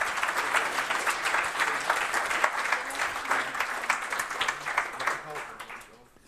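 Audience applause for a student team's presentation at a youth hackathon's closing event, dense steady clapping from a crowded room that fades out near the end, with some voices murmuring underneath.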